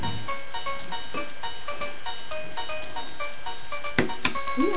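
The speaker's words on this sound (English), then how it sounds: "The phone is ringing" A phone rings nearby with a repeating electronic melody that plays steadily throughout, loud and clear, with a few soft bumps near the end.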